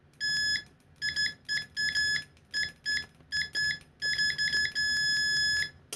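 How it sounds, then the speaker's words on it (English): Continuity beeps from a Thsinde 18C budget multimeter, a series of sharp electronic tones in short bursts of varying length with brief gaps, ending in a longer sustained beep, close and loud with no talk. "Already, Aphrodite, it is continuity time."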